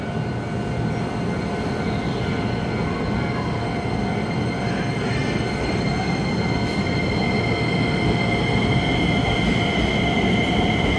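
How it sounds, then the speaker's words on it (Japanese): A train pulls out of Tsudanuma station in Japan: a steady, loud rumble of rail cars and running gear with rising motor whine and faint high squeals, continuous throughout, no voices. "今4番線電車発車しております"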